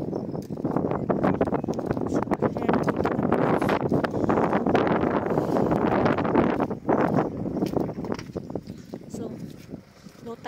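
Strong gusts of sea wind buffet the microphone in loud, rumbling bursts at low tide, with faint background sounds underneath.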